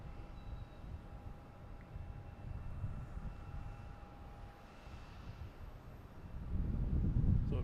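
A Korean Air airplane at Boston Logan Airport gives a steady, distant low engine rumble that swells toward the end as it comes closer, with no talking.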